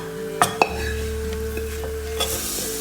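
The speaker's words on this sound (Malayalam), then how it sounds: "നമുക്ക് സാമ്പാറിൽ കൊട്ടാം." Hot fried tempering is tipped into a pot of sambar, giving a brief sizzle with a couple of sharp metallic clinks from the pan and spoon.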